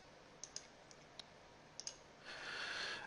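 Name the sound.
computer clicking while drawing with the curvature tool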